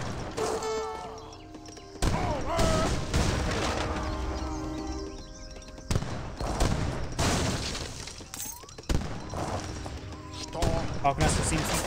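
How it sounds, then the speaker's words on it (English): Falconet artillery pieces firing on a fortress in a real-time strategy battle in Age of Empires 3, loud repeated booms and cracks amid dense battle noise, with a commentator talking over much of it. "Falconets engaging the fortress."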